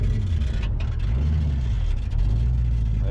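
A 1987 Mustang GT convertible, lowered on big wheels and missing its kickdown cable, pulls away with a steady low engine drone that climbs and dips as it shifts into second gear, loud and close with no talk.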